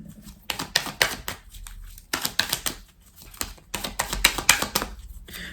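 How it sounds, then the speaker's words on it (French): Tarot cards slid, laid down and flipped over on a table in quick bursts of crisp papery taps and shuffles, separated by short pauses, close and moderately loud. "On va recouvrir quelques cartes."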